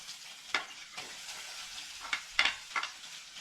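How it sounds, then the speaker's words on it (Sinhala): Chopped ginger and garlic hit a hot oiled pan, giving a moderate sizzle punctuated by several sharp bursts and scrapes as the pieces are stirred, close by and without speech. "අපි දැන් මේකට චොප් කරගත්ත ඉඟුරුයි සුදු ලුණු එකතු කරගන්නවා"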